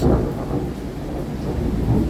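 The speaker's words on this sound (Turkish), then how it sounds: "Halen de yağıyor gök gürültüsünü duyuyorsunuz." Low thunder rumbles steadily beneath a constant wash of falling rain in Istanbul, with no voices.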